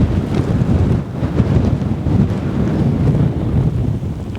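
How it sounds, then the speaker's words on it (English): Strong wind buffets the microphone in a steady low roar with gusty surges on wet high ground near a lake, no voices, loud and close throughout. "it's a bit wet and windy up here. We're getting blown around"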